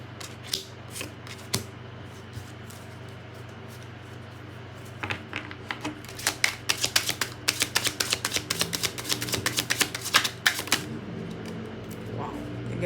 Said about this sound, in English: let me shuffle this again and see if we can get one more card